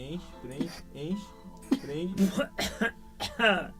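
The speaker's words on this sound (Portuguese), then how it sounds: "Muda o barulho, tosse agora." Someone coughs several times in quick bursts, close up, mixed with throat clearing and voiced breaths.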